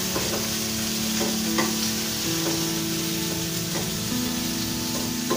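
Tomato, green chili and onion frying in a pan for kababs, a loud steady sizzle with a bright hiss and repeated stirring scrapes throughout, close up and alone.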